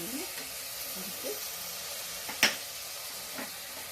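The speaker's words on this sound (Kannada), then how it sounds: "ಕರಿಬೇವು ಸೊಪ್ಪು ಹಾಕಿ ಚೆನ್ನಾಗಿ ಫ್ರೈ ಮಾಡಿ." Curry leaves fry in a pan for a green masala chicken curry, giving a soft continuous sizzle with a few faint stirring scrapes and one brief sharp clink.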